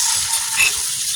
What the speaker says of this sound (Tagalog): Time na ilunod na itong binatil na itlog